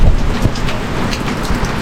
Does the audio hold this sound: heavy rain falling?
yes